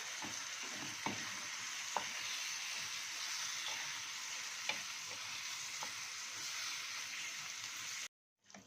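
Fish frying in hot oil for stuffed calamari gives a steady, dense sizzle broken by several sharp pops and crackles, then cuts off abruptly near the end.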